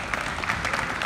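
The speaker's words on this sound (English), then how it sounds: "Give these guys a round of applause" Brief burst of audience applause at a university chapel gathering, a steady, dense patter of many hands clapping close by, with no voices.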